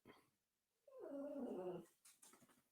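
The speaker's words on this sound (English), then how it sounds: "I think you can hear my dog's upset too." Upset elderly female dog gives a close, plaintive whimpering growl lasting about a second, then trails off into softer noises, with no talk.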